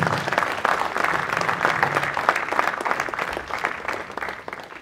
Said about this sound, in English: May I have a round of applause for Tech Mahindra, please?